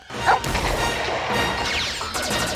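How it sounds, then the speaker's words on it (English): A dog named Lupus in a 1999 N64 video game gives a few quick barks and yips, with crashing effects and busy game sounds all around. "This is the dog, Lupus. He's a big leaper."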